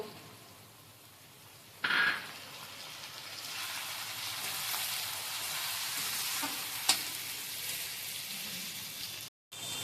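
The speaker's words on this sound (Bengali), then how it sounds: "চিকেন আমার এখানে হালকা ভাজা ভাজা হয়ে গেছে" Chicken pieces frying in a pan for a home-style chicken dak bungalow curry, a steady close sizzle running throughout with a sharp burst partway in and a few scrapes of stirring, no voices.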